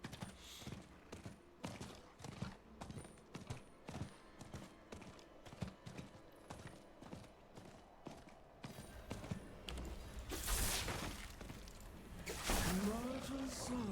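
A horse's hooves clip-clop in a steady, regular rhythm in Diablo IV, followed by a louder rush of game effects and a rising tonal swoop; someone talks quietly over the gameplay sounds.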